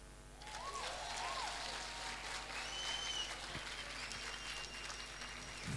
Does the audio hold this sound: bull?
no